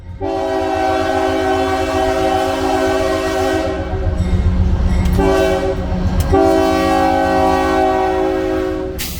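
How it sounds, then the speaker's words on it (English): A southbound Union Pacific grain train rumbles steadily across a river bridge with a loud, sustained horn blast that drops out briefly, then returns, over continuous rolling wheel noise. "a southbound grain train crosses over the Mackinac River on the UP Peoria Subdivision"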